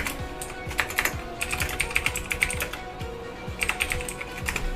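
Rapid, uneven clatter of keys on a computer keyboard, close and fairly loud, with short bursts of strokes and no voices, set against faint background game sounds.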